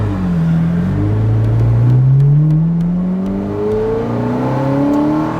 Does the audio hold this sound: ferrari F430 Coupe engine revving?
yes